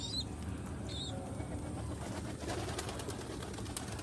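Pigeons coo outdoors while being hand-fed, soft repeated calls and a few higher chirps over a steady background wash, with occasional wing flutters.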